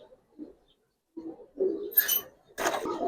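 Pigeons of the Giribaz and coloring breeds coo close by in short, soft bursts, growing louder toward the end with a flutter-like rustle among the calls.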